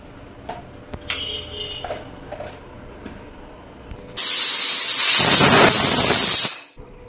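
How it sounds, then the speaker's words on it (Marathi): A pressure cooker on a gas stove, cooking toor dal, lets out a loud, sustained steam whistle-hiss for about two seconds after a few quiet kitchen clinks, then cuts off abruptly. "आपल्या कुकरच्या शिट्या पूर्ण झालेल्या आहेत."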